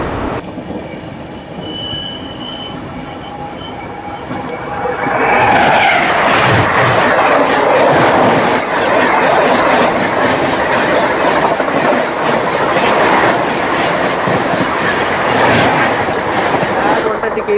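An LHB passenger train rushes past at night. The sound starts as a distant rumble and swells after a few seconds into a loud, sustained roar of wheels with rhythmic clickety-clack and some squeal.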